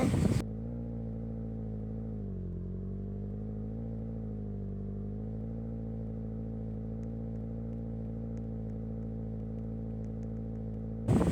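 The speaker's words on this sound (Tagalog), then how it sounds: "So kukuha po ako ng motor." A motorcycle ridden to school, its engine droning steadily and close for the whole stretch, with a smooth low hum that shifts slightly in pitch as it goes and a louder burst at the start and end.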